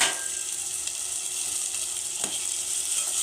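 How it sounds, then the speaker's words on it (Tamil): Prawns sauté with drumstick and potato pieces in a pan, giving a continuous bright sizzle close up, with a few faint stirring clicks and no talking. "எல்லாம் நல்லா வதக்கிட்டோங்க."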